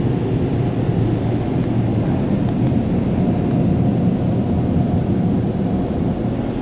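An automatic car wash machine running around a Honda Civic LX, a loud, steady roaring rush of spraying and blowing that fills the whole stretch without a break, heavy in the low end, with no talk.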